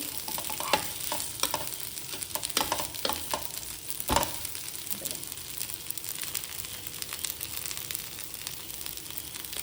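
Patrode fry in ghee in a pan, making a steady close sizzle with a scatter of crackles and a few scraping stirs throughout. The sound runs continuously with no talking.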